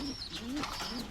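A racing pigeon at a derby loft gives faint, soft low coos, with a thin high chirp from another bird layered over them, all quiet and somewhat distant.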